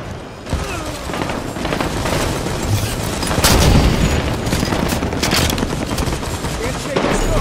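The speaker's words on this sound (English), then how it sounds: "Here comes the grenade!" A grenade goes off in Halo 5 Warzone on the Darkstar map, a heavy boom midway through continuous gunfire and other combat noise, loud and close.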